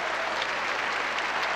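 Many hands clapping together in a sustained ovation for Claudio Arrau at the Teatro Municipal after a piano concerto, a full, even roar of applause without speech.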